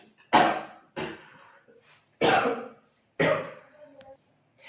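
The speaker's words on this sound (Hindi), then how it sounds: "बार बार बोलने की वजह से बार बार मुझे खांसी आने लगी है।" Four harsh coughs spaced roughly a second apart, close and loud, with brief quiet gaps between them, from a speaker hoarse after talking at length.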